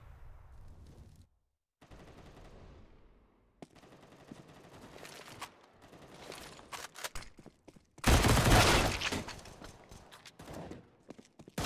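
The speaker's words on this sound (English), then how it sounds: "Hearing and acknowledging the pistols that spam his way" Pistol gunfire on the Cache map in Counter-Strike comes as sharp shots and rapid spammed bursts, with one loud close volley in the middle among quieter footsteps and gaps.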